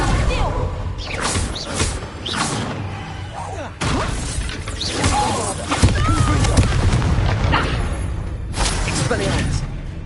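Spell blasts and booming magical impacts in Hogwarts Legacy, with repeated whooshes and crashes in dense bursts that overlap with shouted voices.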